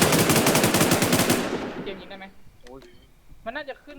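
Rapid video game machine-gun fire rattles loud and dense for over a second, then cuts off, leaving player voices talking excitedly over faint game noise.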